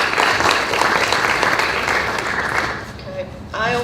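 Audience applause at a pavilion ribbon-cutting ceremony, a steady crowd clapping that tapers off near the end as a voice begins to speak.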